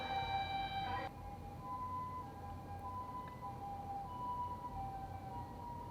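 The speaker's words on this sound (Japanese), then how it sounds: "消防車か。" A distant fire truck siren wails steadily at low volume over street background, its tones shifting after the first second, with no voices.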